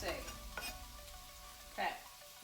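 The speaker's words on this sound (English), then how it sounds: "So I'm just going to add this bacon now" Bacon frying in oil in a pan gives a steady sizzle, with a few brief scrapes and clatters of utensils and one louder burst of crackle near the end.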